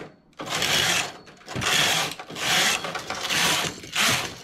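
A knitting machine carriage runs back and forth while working a round lace neckline, producing loud, steady mechanical rattling sweeps in repeated passes with short pauses between them, close up and without talk.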